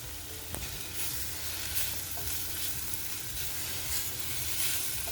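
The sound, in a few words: green chilies added to bulgur, sizzling in the pan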